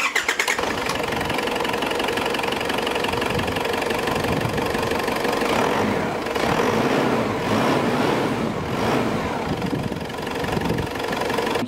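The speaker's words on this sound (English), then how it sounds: "I'll turn it over, let you listen to the engine" An Isuzu Trooper turbo diesel engine cranks and settles into a steady idle, with a close, even knocking rumble that stays constant and loud.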